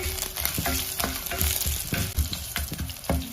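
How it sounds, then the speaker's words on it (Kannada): Curry leaves hit hot oil with frying chillies and chana dal, giving a loud, dense crackling sizzle close up, broken by sharp spatula scrapes and taps against the pan. "ಈಗ ಇದಕ್ಕೆ ಒಂದು ಎಸಳಿನಷ್ಟು ಕರಿಬೇವಿನ ಸೊಪ್ಪನ್ನ ಕೂಡ ಸೇರಿಸ್ತಾ ಇದ್ದೀನಿ"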